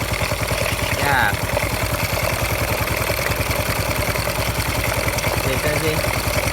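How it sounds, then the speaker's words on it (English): A restored single-cylinder, one-piston engine idles steadily at close range, its rapid even firing pulses continuous throughout with a brief higher whine near the start. "This engine has a very nice idle speed."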